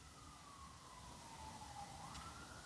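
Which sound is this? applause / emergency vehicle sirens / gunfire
emergency vehicle sirens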